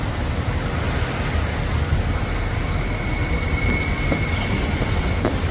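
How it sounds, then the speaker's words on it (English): Manchester Metrolink tram rolling through Piccadilly Gardens in the city centre, a steady continuous rumble and rail noise with a faint thin squeal running along, no talk. "trams are going through Piccadilly Gardens and Piccadilly Station up to Ashton"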